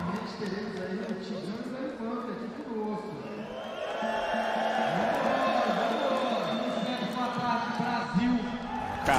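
A large esports crowd at the IEM Rio Major CS:GO Challengers Stage swells with cheering and roaring, building steadily louder under continuous excited casting commentary.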